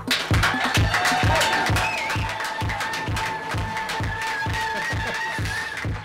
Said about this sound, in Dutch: Dames en heren, een groot applaus voor de tafeldame van vanavond,